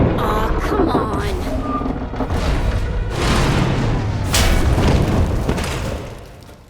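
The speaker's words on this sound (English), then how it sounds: "We heard explosions. The tunnel collapsed." Loud, rumbling booms and bursts roll through a dense, noisy mix, sustained and heavy, like repeated explosions in the game Star Wars: Knights of the Eternal Throne.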